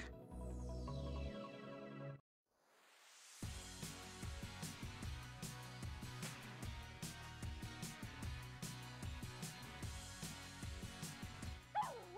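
Small dog in the Barbie and her sisters pet rescue video game gives a rapid run of short, yappy barks and yips, steady and fairly loud, following a brief silence after an opening musical passage.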